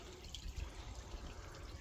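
A garden pond fountain at an allotment runs with a steady, faint splashing hiss of falling water that holds an even, unbroken level throughout.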